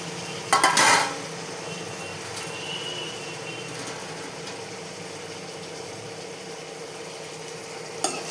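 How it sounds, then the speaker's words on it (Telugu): Tomato pieces stirred into a frying pan, a loud scraping clatter of the spoon against the pan early on, then a steady soft sizzle throughout with another brief clink near the end. "టమాటా ముక్కలు వేసుకొని బాగా కలపాలి"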